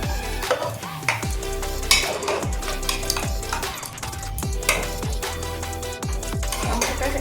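Mutton curry being stirred in a pot, a spoon scraping and clinking against the metal in repeated strokes over steady sizzling, close and fairly loud with no one talking.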